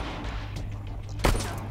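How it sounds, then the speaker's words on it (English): Beam-shooting enemies firing in the StarForge video game near a crashed ship, a sudden sharp energy blast bursting out over a constant low rumbling game soundscape. "These are the things that shoot beams at people."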